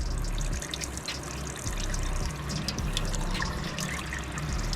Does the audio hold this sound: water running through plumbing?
yes